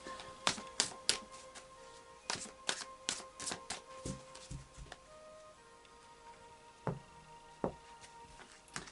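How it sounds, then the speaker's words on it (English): Tarot cards being shuffled by hand, a run of crisp riffling clicks and taps in uneven bursts, close and fairly quiet, with no talking. "So I'll just do a final shuffle here."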